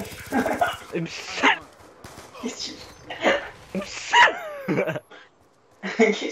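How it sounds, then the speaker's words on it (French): A Rottweiler barks during a Black Ops 3 video game session, several sharp barks spaced between bursts of excited talk by a player. "il y a Rottweiler qui aboie"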